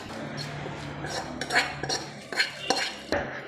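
A spoon stirs fried shallot tempering with curry leaves into a pot of Kerala-style chicken curry, giving a few scraping clinks of metal against the pot over a soft, steady background, with no talking.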